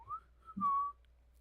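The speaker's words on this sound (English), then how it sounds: "This is the spot where someone whistled," Human whistling at a reportedly haunted spot, two short rising whistled notes followed by a longer sustained tone, clear and fairly close with no talking.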